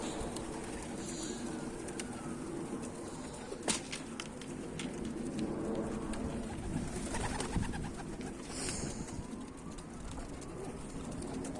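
Pigeons, including Karakafa Şallı and Bango tumbler types, coo and flutter repeatedly under steady outdoor noise, with a few sharp wing claps standing out.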